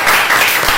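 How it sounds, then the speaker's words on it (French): Brief burst of audience applause at a March 8 round-table event, a dense wash of many hands clapping together, loud and steady throughout with no voices on top. "On applaudit."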